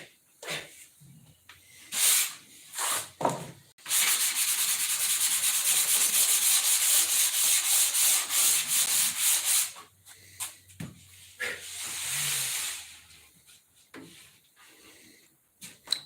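Sandpaper rubbed over wood in a workshop, a long, steady rasping stroke run of rhythmic close scratches with shorter scattered rubs before and after, fairly loud and with no voices.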